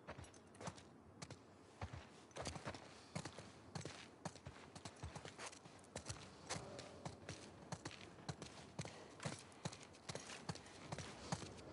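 Horse hooves clip-clop in an irregular walking rhythm in the video game The Last of Us Part II, close and distinct, with occasional louder steps and no talking.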